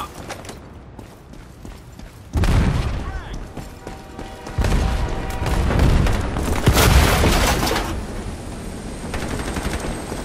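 A frag grenade goes off in the shooter Ironsight: among clattering gunfire and mechanical noises, heavy booming blasts hit at intervals, with a sustained loud rumble building toward the end; a voice speaks briefly.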